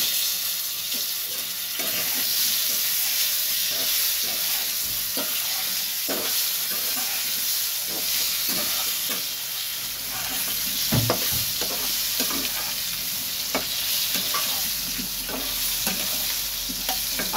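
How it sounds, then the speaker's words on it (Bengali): Cut potatoes frying in hot oil in a home kitchen pan, a steady dense sizzle with occasional crackles and pops and a few louder stirring scrapes, close and continuous, with no talking. "কেটে রাখা আলুগুলোকে ছেড়ে দিলাম, তার সঙ্গে তেলের এটা একটু কমিয়ে দিলাম"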